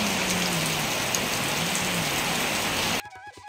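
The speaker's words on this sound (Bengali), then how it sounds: "বৃষ্টি এসেছে ঝমঝমিয়ে।" Heavy rain falling steadily in a dense, even hiss, close and loud, then cutting off abruptly near the end.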